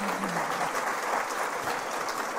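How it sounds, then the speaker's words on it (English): Steady, even applause from an audience honoring panelists at a women's symposium, a continuous wash of many hands clapping at moderate level. "So a round of applause to the fellow panelists."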